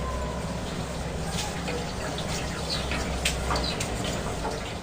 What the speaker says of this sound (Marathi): नूडल्स वरती मी थंड पाणी ओतणार आहे.